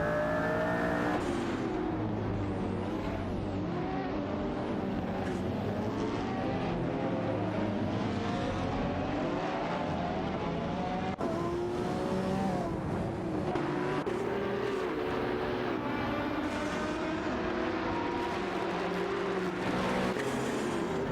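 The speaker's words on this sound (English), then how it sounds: "The competition is heating up as these four cars jostle for position." Aston Martin Vulcan and McLaren race cars in a video game roar continuously at high revs, engines rising and falling through gear shifts as several cars pass, loud and steady with no talk.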